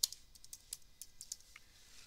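Light keystrokes tap out a broadcast script on a computer keyboard, a quiet, irregular patter of individual clicks with short pauses, close and alone.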